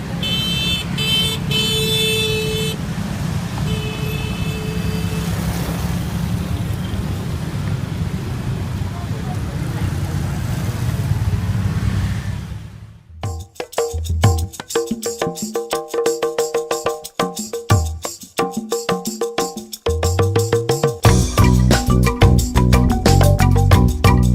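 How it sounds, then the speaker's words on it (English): Busy street traffic in Java, Indonesia: a dense roar of engines and passing vehicles for about half the time, then sharper intermittent horn-like and mechanical sounds with quieter gaps, fairly loud and close. "Once again, we crossed the busy traffic to get back to our hotel"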